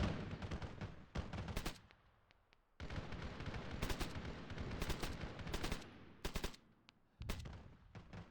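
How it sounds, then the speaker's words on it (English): Enemy gunfire in a military video game: repeated bursts of rapid automatic shots, loud and close, separated by brief lulls and continuing throughout. "Well, they started shooting now."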